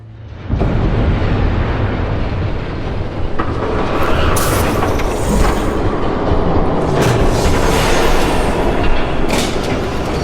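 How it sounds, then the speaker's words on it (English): A train passes in the Batman Telltale Series game, a loud continuous rumble with rising hiss and rattle that stays steady and close for about ten seconds, with no talk over it. "There's a train coming."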